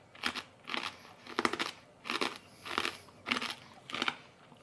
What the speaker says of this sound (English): These are a much nicer crunch, but there's also like softness, like it's from the inner part of the pigskin.